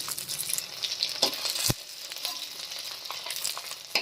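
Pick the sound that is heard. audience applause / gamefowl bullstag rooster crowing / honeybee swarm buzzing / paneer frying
paneer frying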